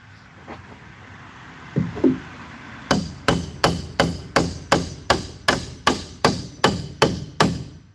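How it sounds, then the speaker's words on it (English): A hammer bangs on wood to knock it loose, about a dozen sharp, loud blows in a steady rhythm, close up, after a few lighter taps. "let me get my hammer and bang some more"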